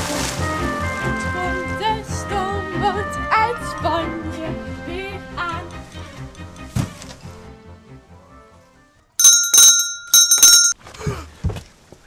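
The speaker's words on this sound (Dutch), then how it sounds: "ik hoor de bel ook" Music plays and fades out, then a bright bicycle-style bell rings in rapid repeated bursts, loud and close.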